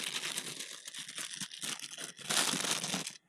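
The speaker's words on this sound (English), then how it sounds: "Let's unwrap this so you can probably actually see what we're dealing with here." Plastic packaging from a Tiny Whoop drone kit is unwrapped close up, giving a continuous, loud crinkling and crackling with a louder burst near the end.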